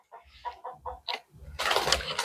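Chickens cluck in a quick series of short, close calls, followed by a louder burst of squawking at the end.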